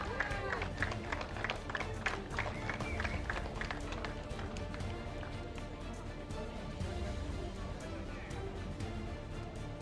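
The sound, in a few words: audience applause at race prize ceremony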